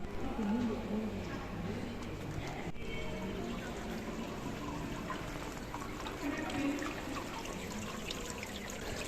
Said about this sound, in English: That's weird, it's a water curtain.